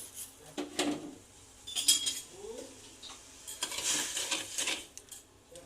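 A wok is set on a stove to make sugar syrup with cardamom, with scattered metallic clinks, scrapes and stirring taps, faint and intermittent.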